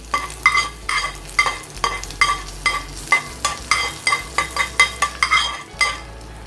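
Tempering of curry leaves and other seasonings poured over a Kerala-style raw papaya curry crackles and sizzles close by, punctuated by a steady rhythm of sharp metallic clinks from a spoon against the pan, with a low hum beneath and no talking.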